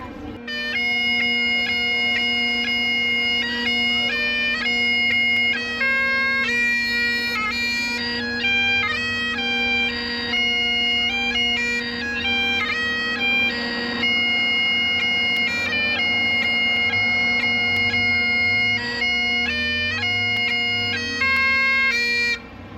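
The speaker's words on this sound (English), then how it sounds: "I hear bagpipes." Bagpipes play a lively tune over a steady drone, loud and continuous, heard outdoors on Vancouver Island, Canada, with faint background noise.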